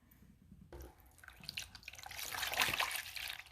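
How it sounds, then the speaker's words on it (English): Distilled water poured into a container for soaking an orchid, starting as a faint trickle and building to a louder, splashy pour near the end. "all I need to do is get water into the container"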